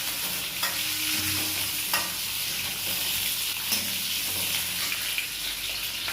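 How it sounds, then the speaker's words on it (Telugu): Drumstick pieces go into a hot pan of oil for sambar, setting off a steady close sizzle with a few stirring knocks and scrapes and no voices. "ఇప్పుడు ఏం చేస్తుందంటే మునక్కాయలు వేస్తున్నామండి."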